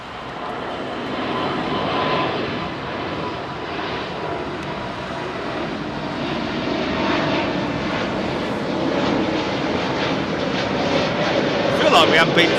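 A UK government Voyager jet, escorted by two Typhoon fighters, passes about 1,000 feet overhead near London Heathrow, producing a broad, sustained engine roar that builds gradually and stays loud to the end.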